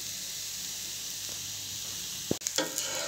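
A jowar dosa fries on a hot pan, a soft, even hiss close by, interrupted near the end by a brief knock and scrape of a spatula, with no talking.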